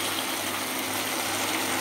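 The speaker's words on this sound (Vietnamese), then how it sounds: "Rồi chúng ta chế nước nha." Boiling water is poured from a pot onto chicken for a Vietnamese chicken and seaweed soup, a steady, soft gushing splash that runs unbroken throughout, fairly quiet and with no talk.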